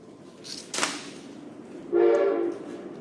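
A toy train prize sounds a short horn blast, preceded by a brief clatter, loud and close in a quiet room during a live online scrapbooking class.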